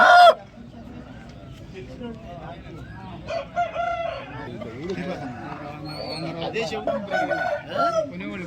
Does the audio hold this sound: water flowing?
no